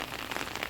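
Rain falls steadily on a garden, a soft, even hiss of drops spread across the whole short moment with no voices.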